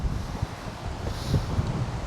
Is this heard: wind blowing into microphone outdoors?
yes